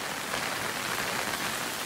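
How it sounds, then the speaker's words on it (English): Steady rain falling during Hurricane Florence in a residential neighborhood, an even, soft hiss of drops on surfaces that keeps on without pause. "it's just been raining like this for a day or two"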